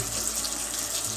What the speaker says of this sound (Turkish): Şimdi suyu kapatıyoruz.